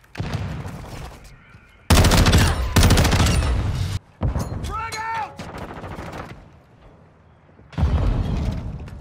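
Bursts of rapid gunfire and heavy blasts from a grenade explosion crash through a Call of Duty: Modern Warfare II hardcore team deathmatch, loud and close, separated by short gaps with a brief electronic chirp in between.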